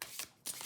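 Tarot cards shuffled and handled by hand, with two short papery bursts of cards riffling and slipping, close and quiet.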